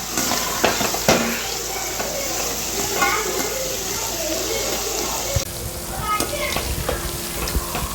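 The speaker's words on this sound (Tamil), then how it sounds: "எண்ணெயோட சத்தத்தை பாருங்கள்." Oil sizzles steadily in a pan while Indian gooseberry (amla) pickle cooks, a close, continuous frying hiss with scattered pops and light stirring clatter, under some faint voice sound.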